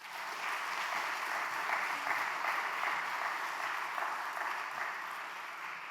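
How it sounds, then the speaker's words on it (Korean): Applause from a church congregation at a weekday prayer meeting, steady and sustained, filling the room at a moderate level without speech. "박수 한번 주십시오"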